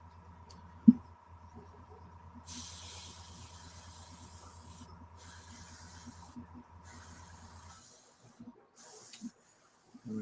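An airbrush hisses in soft bursts as it sprays paint, starting and stopping several times at close range over a faint background hum, with quiet sounds between passes.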